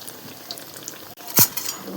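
Chops fry in hot oil at an outdoor picnic, giving a low, steady sizzle that flares into a brief, louder hiss of spattering near the end, with no talking.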